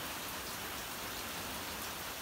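Slow, steady rain falls outdoors in Warm Springs after a windy front has passed, a dense, even patter that fills the air at low volume with no talk.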